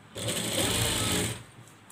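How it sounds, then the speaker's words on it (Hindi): Sewing machine running steadily while stitching a seam along lace on a double-layer frock, a continuous close whirring burst that starts and stops cleanly, with no talk. "आपने एक साइड पर इस तरह सिलाई लगा लेनी है"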